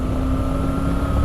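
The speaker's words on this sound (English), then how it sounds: "It's got a big old raspy engine for this size engine." Triumph Tiger 900 GT Pro motorcycle, 2021, engine droning steadily and loudly with a raspy hum, mixed with wind rush and no break in the sound.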